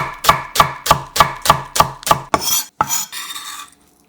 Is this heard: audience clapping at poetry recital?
no